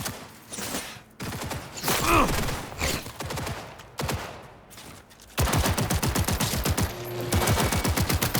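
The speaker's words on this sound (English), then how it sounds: "Shots fired!" Rapid automatic gunfire fills a Cyberpunk firefight in repeated close bursts of tight, rattling shots, broken by short pauses and mixed with shouting voices.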